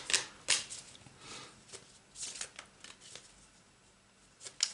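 Tarot cards being shuffled and drawn during a card reading, soft scattered papery riffles and slaps at close range, several brief bursts spaced irregularly, quiet and without talk.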